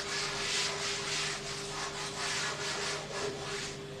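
A duster or eraser rubs a board clean in rapid back-and-forth strokes, a steady close scrubbing hiss under a faint constant hum, with no one talking.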